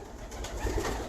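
A pigeon held in the hand gives a short, low coo, brief and close, against faint background noise.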